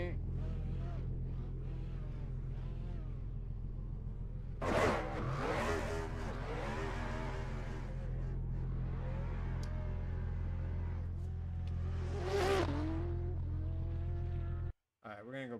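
A drift car engine in Assetto Corsa drones steadily, rising in pitch with two surges, then sits against the rev limiter, buzzing loud and continuous until it cuts out abruptly near the end.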